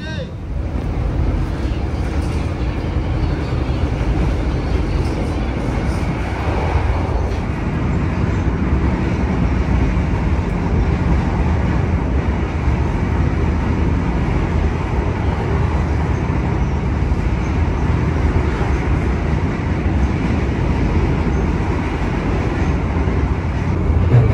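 The Gajah Wong passenger train runs along the rails toward Wates station, a steady heavy rumble and rattle from inside the carriage that continues without a break.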